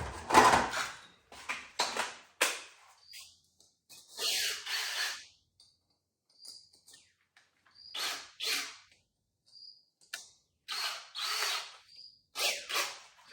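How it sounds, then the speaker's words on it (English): A power drill whirs in several short bursts, spinning up and cutting, separated by pauses and a few small clicks and knocks. "take your drill bit, drill anywhere in the center or on the side"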